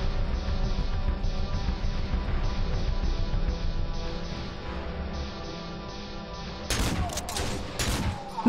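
Gunfire in the horror game Cry of Fear comes as rapid, repeated shots in a dense burst, then a sharper, louder volley near the end.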